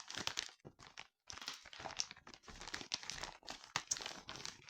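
A package being unwrapped, crinkly plastic packaging crumpled and rustled in close, irregular bursts with short pauses between handfuls, and no talking.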